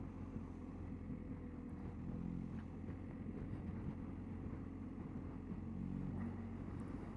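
Tyres on a BMW R1250GS motorcycle give a constant low roar and hum while riding, faint and continuous with no voices.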